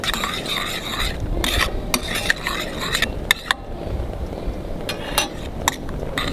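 Garlic is stirred into melting butter in a pan, with a soft sizzle underneath and a series of sharp utensil clinks against the pan, some quick and close together; a voice speaks over it.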